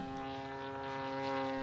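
Top-Flite giant scale P-47 Razorback radio-control model plane weighing about 21 pounds, flying on its maiden flight with a steady, loud propeller engine drone and strong harmonic whine throughout, no voices.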